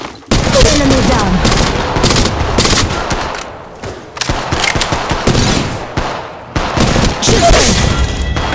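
Repeated bursts of rapid automatic gunfire in the mobile game Apex Legends Mobile, loud and close, broken by brief pauses between volleys, with some booming impacts mixed in.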